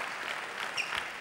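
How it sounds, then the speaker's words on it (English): Brief, steady applause from a crowd at a professional squash match, moderately loud and uniform throughout. "a wonderful round of applause"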